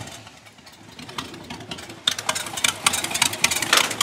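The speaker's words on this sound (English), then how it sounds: "Everybody loves to hear sound of a motor." A Ford Model A truck engine turns over and catches about halfway through, then runs with a loud, choppy, uneven rumble close by after a quiet start.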